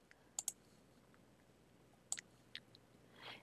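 A computer mouse clicks faintly a handful of times in a quiet room: a quick pair of sharp clicks, then a few more single clicks spaced out, with a soft rustle near the end.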